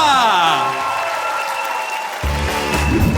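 A comedy-league audience at NTU DP in Dnipro applauds as the Prydniprovskyi Ofis team is called to the stage, a steady spread of clapping mixed with loud stage music that swells near the end.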